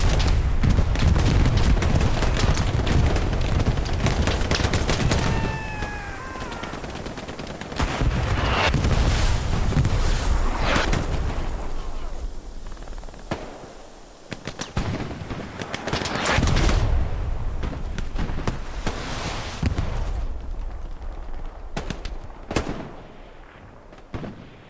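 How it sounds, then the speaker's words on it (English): A bombing run in a video game, with a series of heavy booms and gunfire-like bursts spread across the stretch, loud explosions rising and fading over a rumbling battlefield backdrop. "Offensive bombing run."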